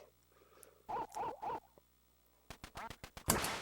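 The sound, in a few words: duck quacking in Duck Hunt video game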